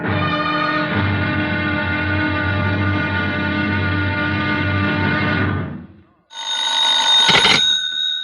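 An old-fashioned telephone bell rings in a radio drama. A long, loud, continuous metallic ring stops briefly, then a second ring starts, close and dominant.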